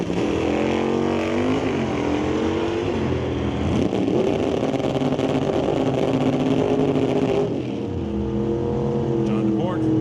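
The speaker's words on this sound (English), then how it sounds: "We'll bring up Rich Graves with the 1967 El Camino against John DePort in his 77 Camaro." A 1967 Chevrolet El Camino and a 1977 Camaro drag racing at Mission Raceway Park, loud revving V8 engines roaring and shifting through gears, close and continuous, with a voice talking over the noise.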